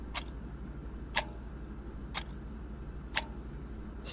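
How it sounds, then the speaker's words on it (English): Wall clock in a quiet bedroom: four crisp, faint ticks spaced about one second apart over a low background hum. "the clock ticking"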